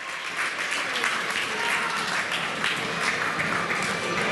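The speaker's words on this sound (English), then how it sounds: "The Rovers fans are applauding." Doncaster Rovers football fans applaud in a stadium during an FA Cup match, a steady, dense wash of crowd clapping that carries on throughout.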